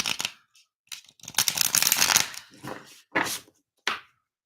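Tarot cards shuffled by hand in close, crisp bursts of riffling and slapping, with short pauses between bursts and a final quick snap, loud and alone.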